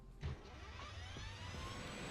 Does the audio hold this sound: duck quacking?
no